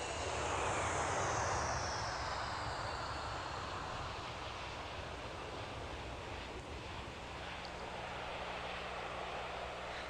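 A steady, loud roar of a jet airplane engine, broadband and continuous, with a slow whining sweep near the start and no voices.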